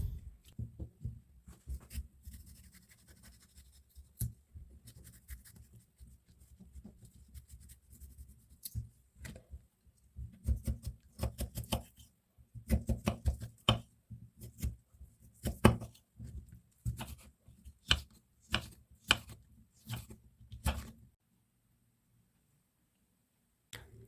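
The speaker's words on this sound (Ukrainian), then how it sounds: "Свіжий огірок нарізаю кубиками." Close knife strokes dicing fresh cucumber on a board, irregular bursts of quick chops with short pauses between, ending in silence.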